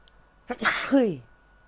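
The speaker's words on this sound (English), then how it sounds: "now I'm taking a sneezing fit" A single loud sneeze comes right at the microphone, a short sharp burst that ends in a brief voiced tail, with a quiet background.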